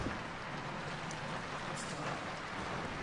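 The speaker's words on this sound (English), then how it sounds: "And it's raining." Night rain in a video game, a steady, dense hiss of falling rain on surfaces, even and continuous throughout without voices.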